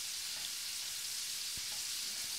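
Lamb pan-searing in butter with garlic and green onion stems gives a steady, close, bright sizzle that stays even throughout, with one faint clink partway through.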